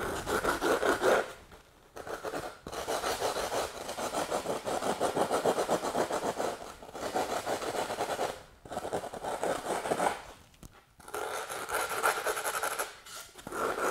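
A carving tool shapes and thins a foam largemouth bass mount form near the tail, giving quiet, steady rasping and scraping strokes in long runs separated by short pauses.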